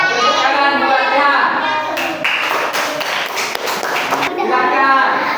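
A class of students claps for a classmate, a burst of dense hand clapping from about two seconds in, with children's voices chattering over and around it.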